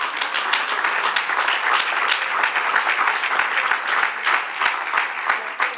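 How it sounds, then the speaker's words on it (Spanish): A church congregation claps and applauds in praise during a Spanish-language sermon, a dense, steady roar of many hands that continues throughout. "Dale un aplauso al Señor."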